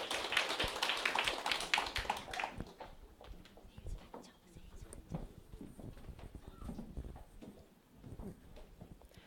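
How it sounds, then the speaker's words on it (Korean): At a sales meeting, an audience claps to welcome a sales master to the front: a brief burst of many hands at first, then thinning into scattered, sparse claps and taps. "여러분 박수 부탁드립니다"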